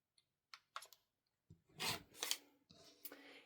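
A few light clicks and taps, then quilting fabric trimmed along its selvage edge on a cutting mat: several rasping cutting strokes, close and quiet, with short pauses between them.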